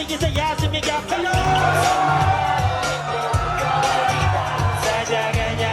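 Concert crowd shouting, whooping and cheering loudly over live music with a thumping beat, a dense, continuous roar of voices close around.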